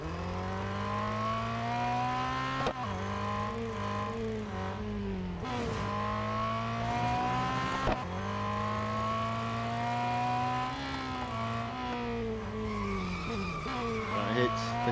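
A heavy race car in the Real Racing 3 video game, on the Red Bull Ring national circuit, drones through fifteen seconds of loud sustained engine roar. Tires scrub and skid through corners, with sharp gear-shift breaks between stretches of high revving.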